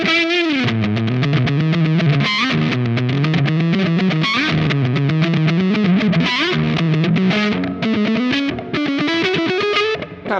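Electric guitar played through a BK Butler tube overdrive pedal with the overdrive turned all the way up, giving a loud, continuous, saturated distorted tone with sliding, gliding notes and sustained chords, no talking.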